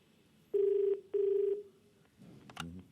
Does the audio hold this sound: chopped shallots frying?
no